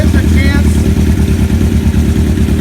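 A 1974 Kawasaki Z1 900 motorcycle engine runs steadily at close range, a loud, even throbbing rumble that holds for the whole stretch while a voice speaks over it.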